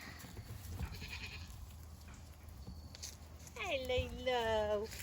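Goats on a homestead bleat at feeding time, a drawn-out wavering call rising near the end over a person talking to them.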